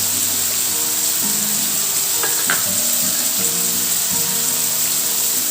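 Garlic fries in a hot pan for a fish gravy, giving a steady, close sizzle with a few faint clinks over it and no speech.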